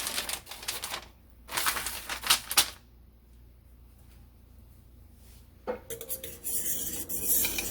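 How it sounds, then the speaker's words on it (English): Spoon clatters and scrapes around a crockpot of ranch chicken sauce thickening with cornstarch, coming in short busy bursts with a quiet stretch between and a final run of clinks near the end. "stir it till the sauce starts to thicken"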